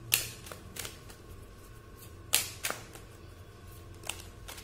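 A deck of oracle message cards is shuffled nearby in a few short riffling bursts with soft card snaps between them, set against a faint steady background hum, and nobody speaks.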